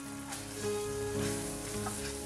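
Mawa and milk powder stirred continuously in a pan for modak, a soft close sizzle with a few scraping strokes of the spoon, brief and quiet.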